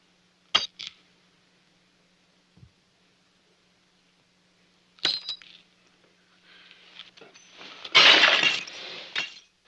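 Drinking glasses smashed after a toast: a sharp crash, a faint knock, then another shattering burst followed by a longer, louder spray of breaking glass and tinkling shards, with no talk.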